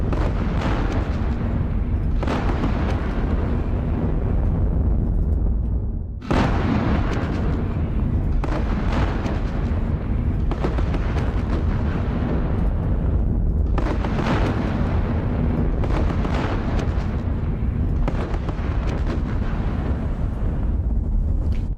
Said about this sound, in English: I think we're gonna try and shell the puck gun.